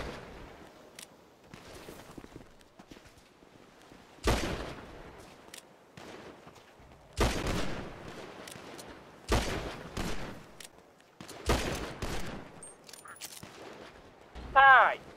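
Gunfire in the game FiveM (GTA V) sounds as several sharp, loud bursts of shots spaced a few seconds apart over quieter background game noise.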